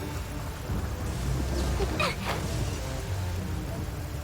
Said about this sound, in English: I got hit by lightning